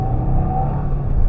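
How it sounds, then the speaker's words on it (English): Subaru WRX RS with a 2.4-litre flat-four engine, a steady low engine rumble with a faint tonal hum, brief and continuous. "the sound is pretty good coming out of that engine"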